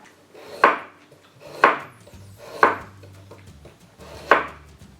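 A knife cuts carrots into thin matchsticks for Korean vegetable pancakes, making four sharp, separate chops on a board, spaced about a second apart and heard up close with no talk.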